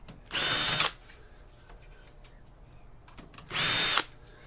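Two short whirring bursts from a power drill undoing screws while a PC is scrapped, each about half a second long and a few seconds apart, close and clear, with faint handling noise between them.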